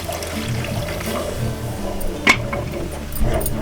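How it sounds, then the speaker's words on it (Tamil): Boiled cow's milk poured into a pot of red flattened rice payasam, a close, wet splashing and trickling pour with a short louder slosh partway through. "பால் விட்டு கலந்து விடுவோம்."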